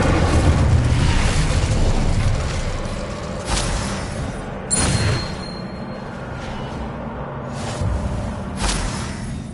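Confringo and Incendio spell blasts in Hogwarts Legacy, a few booming bursts with crackling fiery tails over a rumbling game backdrop, one strong hit near the start and several more spaced through the middle and end.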